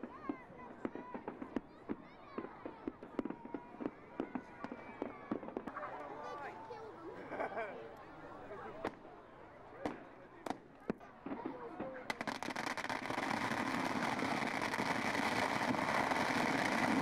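Fireworks and firecrackers go off again and again as they are thrown at society members dressed as Catholic clergymen standing on a platform, with sharp bangs and crackles over crowd noise, building into a dense, continuous roar near the end.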